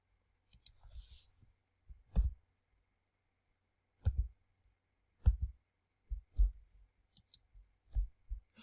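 Sharp mouse clicks while working in Adobe Illustrator CC 2020, about a dozen quiet, separate taps in uneven bursts with pauses between them, close and isolated against a near-silent background.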